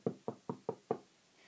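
Five quick knocks rap on a door in an even, evenly spaced rhythm, crisp and fairly close, followed by brief quiet.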